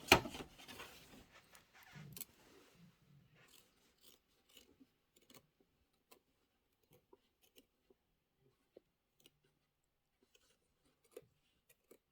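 Scissors trim quilt fabric in a run of sharp snips and cuts at first, then thin out into sparse, faint, isolated clicks, with no talking.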